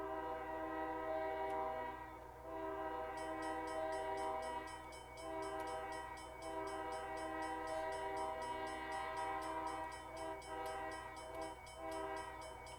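Horn of a BNSF ES44 locomotive in the Railworks train simulator, a sustained multi-tone chord sounding steadily and loudly across the whole stretch with slight pulsing, no talking over it.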